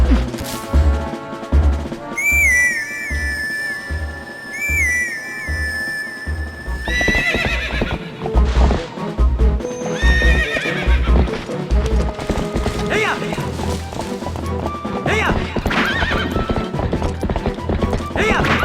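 A horse in The Legend of Zelda: Twilight Princess whinnies twice over a steady clip-clop of hooves, followed by busy, clattering game sounds.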